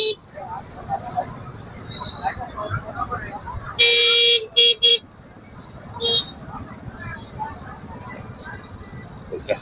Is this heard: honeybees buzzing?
no